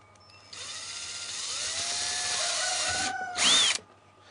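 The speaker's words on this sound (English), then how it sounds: "putting it in place is just a matter of drilling a hole here" A power drill boring a hole through the plastic wall of a wheelie bin: a steady whining motor drone that rises in pitch as the bit bites, then a brief louder high squeal before it stops, close and alone.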